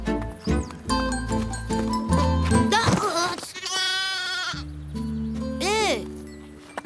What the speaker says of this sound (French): Ça, c'est une gentille brebis, ça.